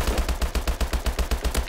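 Rapid bursts of automatic gunfire in Call of Duty: Advanced Warfare online multiplayer, a steady run of loud shots packed close together with no talk over them.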